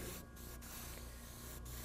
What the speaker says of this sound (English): if your brush starts to clog up a bit, just spray it right on the side, open it up